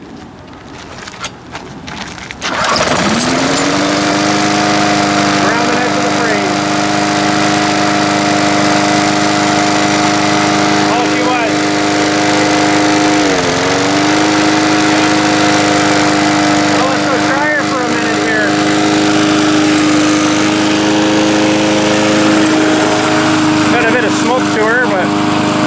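A lawn mower that had failed to start fires up after a brief crank and settles into a loud, steady running drone close by, with a short dip in revs midway.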